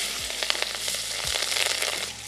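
Nigella seeds and green chillies sizzle and crackle steadily in hot oil, a close, continuous frying hiss with small pops and a couple of low thuds.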